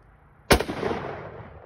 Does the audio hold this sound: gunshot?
yes